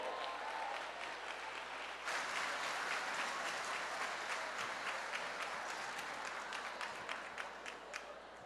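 Audience applause at an evening ladies' event after a diamond draw explanation, continuous clapping that swells after a couple of seconds and carries on steadily with a few distinct sharp claps near the end.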